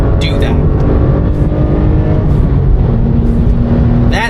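A car driven hard along a winding driving road, a loud, steady engine roar heard from inside, with brief voices breaking in over it.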